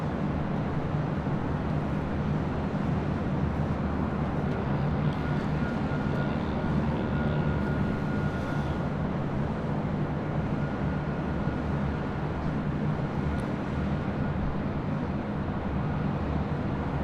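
Delta Airlines Airbus A319 arriving at LAX from San Francisco, a steady broadband roar of jet engines that holds loud and unbroken throughout, with no voices.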